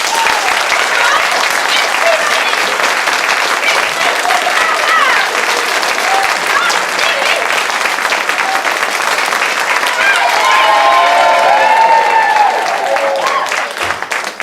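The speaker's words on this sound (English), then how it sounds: "if you believe in fairies, clap your hands!" A pantomime audience at a Peter Pan show claps hands in loud, sustained applause that swells and holds, with voices calling out within the crowd.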